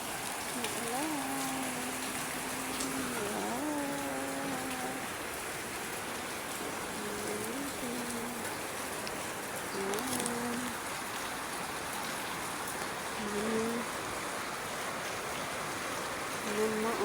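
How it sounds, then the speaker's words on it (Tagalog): Steady rain falls as a constant broadband hiss throughout, while a voice talks intermittently over it. "Malamig ang panahon ngayon kasi ulan ng ulan."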